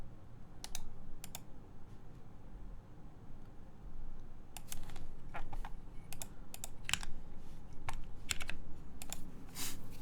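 Typing on a prototype Merisi Works Ottantaquattro 84 mechanical keyboard fitted with a GMK spacebar, with sharp clustered keystroke clacks in bursts and pauses, close and fairly loud over a low background hum.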